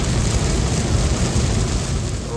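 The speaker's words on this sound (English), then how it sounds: "it started raining." Steady rain pours on a car driving from Atlanta toward Jacksonville, Florida, a dense continuous hiss over a low road rumble, loud and close with no talking.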